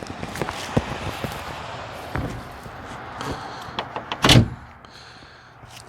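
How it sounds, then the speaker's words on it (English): A donor car's door shuts with a single solid thud near the end, preceded by faint clicks and rustling. "The door still closes."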